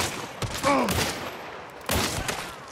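Gunshots ring out in Hunt: Showdown, a few sharp, loud reports with short echoing tails, two clustered early and another burst near the end, with a brief voice between them.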